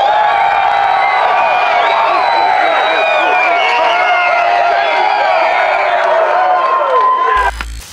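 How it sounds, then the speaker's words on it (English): A large crowd cheering and whooping in response to a call for excitement about bow hunting, loud and sustained with overlapping shouts and yells from many voices, cutting off sharply at the end. "let's hear some cheering"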